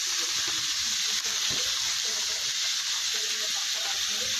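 Potatoes and soybeans stirred while frying in a pan with salt and turmeric, a loud, continuous sizzling hiss close up, with a brief scrape of stirring partway through.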